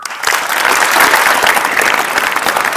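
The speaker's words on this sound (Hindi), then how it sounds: "अपने लिए एक बार ताली बजाओ।" A room full of students breaks into steady, dense clapping, close and loud throughout, with no voices over it.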